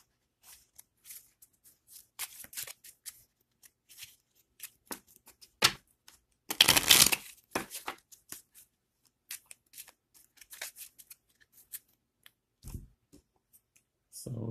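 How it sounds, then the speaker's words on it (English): A deck of game cards from a solo zombie survival board game is shuffled in quiet, close, crisp riffling bursts with a longer riffle in the middle and scattered card flicks around it. "Shuffle our cards again."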